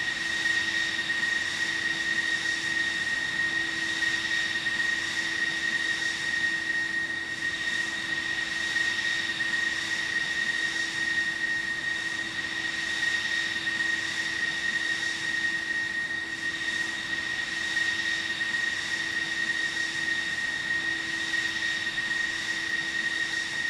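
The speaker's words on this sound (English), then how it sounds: "This is quite a loud aircraft, but what do you expect? It's an air show." Loud, steady aircraft engine roar at a Roblox video game air show, a constant drone with a high whine holding unchanged and alone throughout.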